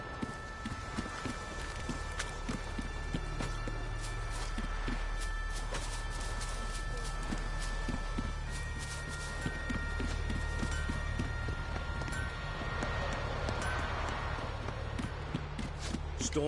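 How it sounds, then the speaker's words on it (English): Rhythmic clip-clop of horse hooves trotting on a hard surface in the video game The Witcher 3, steady and fairly close, with faint ambient tones behind. "The horses are ready."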